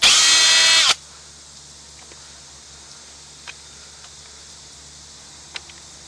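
A power drill whirs loudly for about a second while removing 5/16 screws from a Craftsman 2700 PSI pressure washer, followed by near quiet with a few faint clicks.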